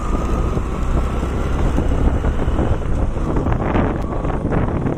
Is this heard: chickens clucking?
no